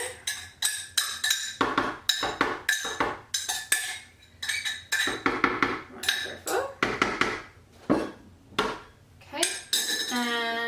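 A spoon scoops pumpkin into a container, making a rapid series of close metallic clinks and scrapes in uneven bursts, ending in a short higher-pitched scrape.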